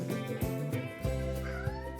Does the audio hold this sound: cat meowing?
yes